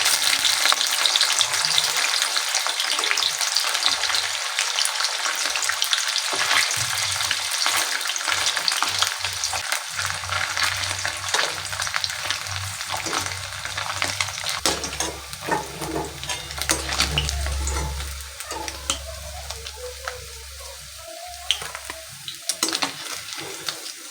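Paneer pieces fry in hot oil in a pan, a dense, steady sizzle running throughout with occasional stirring scrapes and a low rumble partway, no voices.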